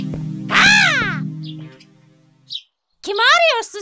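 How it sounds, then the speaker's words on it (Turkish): A cartoon crow caws twice, loud and close: a drawn-out rising and falling call, a short pause, then a second harsh call, sounding like a voice performing the bird. "Cinderella Pofu'yu ararken bir kargaya rastlamış."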